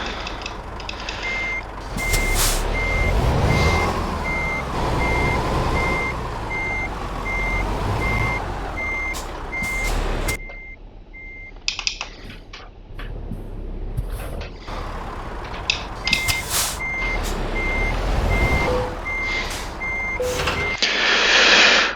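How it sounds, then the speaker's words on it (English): A Scania S truck in Euro Truck Simulator 2 reverses with a steady electronic beeping alarm repeating over a low engine rumble, broken by sharp hisses of air brakes, loud and close throughout. "So the truck that I'm currently driving is a Scania S."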